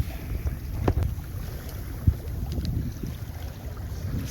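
A sailing canoe moving fast with wind and tide across the open water of Plymouth Sound, with steady wind buffeting and water rushing along the hull, plus a few soft knocks from the boat.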